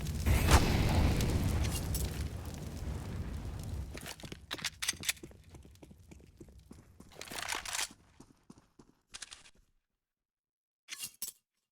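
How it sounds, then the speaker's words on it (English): A grenade explodes in Counter-Strike on the Overpass map: a loud, booming blast that rumbles and fades over several seconds, followed by scattered clicks, footstep-like taps and short rustles before falling silent. "A nice nade drop down, at least something."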